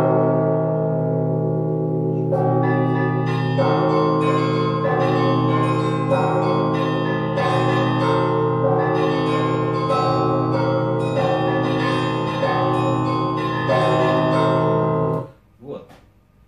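Computer-simulated Orthodox church bells ring out Psalm 103 in a dense, sustained peal of overlapping strikes, loud and continuous for about fifteen seconds before cutting off abruptly, followed by a brief moment of talking.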